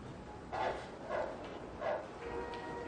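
A dog gives three short, faint barks spaced about half a second apart over a quiet background hum.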